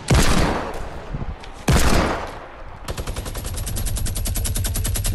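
Loud gunfire in Fortnite Battle Royale: two heavy blasts a second or so apart, then a long rapid burst of automatic fire with an even, steady rhythm, close and unmixed with talk.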